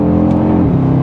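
A 2.5 litre five-cylinder engine in an Audi RSQ3 Sportback holds a steady, loud rev with a dense low growl, partly piped through cabin speakers, heard up close for about a second with no talk.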